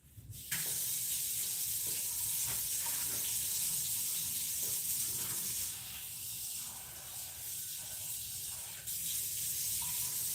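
Water streams steadily from a kitchen tap while beans or chiles are set to soak for pozole rojo, a continuous close hiss with a brief dip in the middle, no talk.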